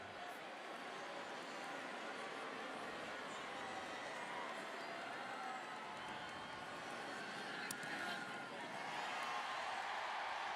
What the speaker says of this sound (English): a big cheer from the Alabama faithful